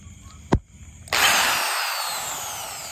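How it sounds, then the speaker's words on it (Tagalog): A sharp click, then an electric drill whirs up and runs steadily at high speed, loud and close, its pitch holding through the end. "So ganito po paggamit ng barena."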